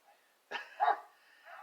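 A German Shepherd gives a single short bark followed by a softer whine-like tail, fairly close and moderately loud in an otherwise quiet outdoor setting.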